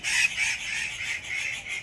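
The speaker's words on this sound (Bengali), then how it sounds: "কত পাখি ডাকছে।" Birds calling from a bamboo grove behind a house, a steady chorus of chirps and calls carrying through the whole moment at moderate level with no talking.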